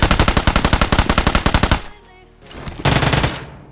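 Gunfire in the battle royale game BGMI: a fast, loud burst of automatic shots, a short pause, then another brief burst, close and clear.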